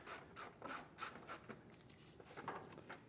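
Ratchet fitted with an 8mm socket backing out trim screws on a 2025 Ram Bighorn, a quiet close run of about five clicking bursts followed by softer, quicker clicks.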